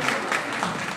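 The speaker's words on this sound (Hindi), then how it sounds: "हम एक बार जोरदार तालियां बजाइए।" A community gathering in Haridwar hall fills with a short burst of dense audience clapping, moderately loud and continuous for about a second.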